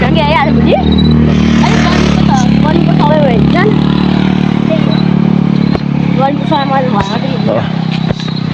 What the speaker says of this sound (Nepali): बाइक आयो यार